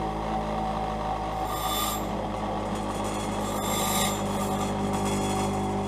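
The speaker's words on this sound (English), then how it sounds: "get a grinder like this, and you're just going to tap the ends" A grinder files the ends of piston rings for a 3rd-gen 4.8L LS engine, producing a steady close rasping rub with two brief brighter scraping bursts over a constant low hum.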